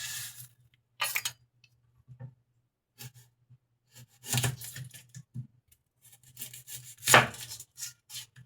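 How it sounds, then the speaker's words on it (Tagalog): Onions are sliced on a board while lunch is being cooked, producing sparse, irregular knife chops that come in short bursts separated by pauses, fairly close and moderately loud, with no talking. "Tayo po ay magagayat ng sibuyas."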